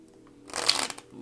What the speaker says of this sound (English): Oh, I can't even shuffle.